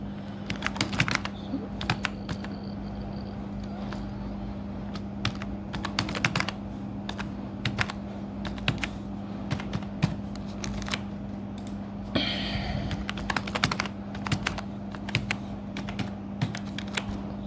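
Quiet, steady clicking of computer keyboard keys as a password is typed, irregular taps in short runs over a constant low electrical hum, with no talking.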